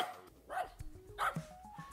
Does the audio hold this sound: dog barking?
yes